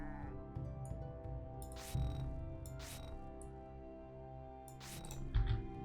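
Goats at a goat farm in the city-building game CivCity: Rome bleat in a few short calls over a steady hum of game ambience and background music.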